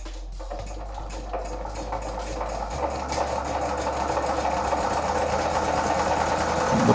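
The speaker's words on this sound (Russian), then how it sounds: "Я сейчас запускаю двигатель." A small generator engine cranks and catches, then settles into a rapid, steady chugging that grows gradually louder and busier.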